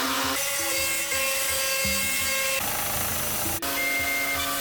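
A CNC machine mills a part for a garage-built humanoid robot's shin and ankle, giving a steady high whining cut with shifting tones and a brief dip near the end.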